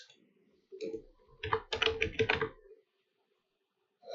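Typing on a computer keyboard while entering Laravel code for an e-commerce admin panel: a quiet, brief burst of rapid clicks over about two seconds, followed by silence.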